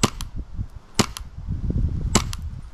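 An airsoft Glock pistol fires BBs in three sharp, separated pops at close range, with low handling rustle and clatter filling the gaps between shots.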